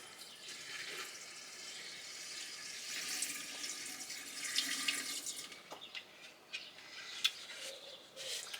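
Fuel pours through a hose into the tank of a Jeep being prepared for a D-Day display, giving a steady, soft rushing and gurgling liquid flow with a few faint knocks and splashes.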